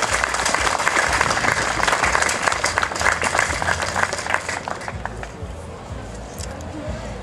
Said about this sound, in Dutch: geef Jacques een hartelijk applaus